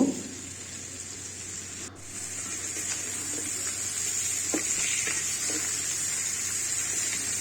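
Bitter gourd and shrimp fry in a pan over lowered heat while being stirred, giving a steady, close hiss of sizzling with faint scraping touches throughout.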